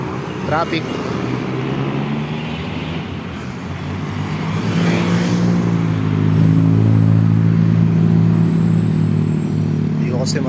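Road traffic on Shaw Boulevard at night: cars rumbling steadily and nearby engines swelling as vehicles pass.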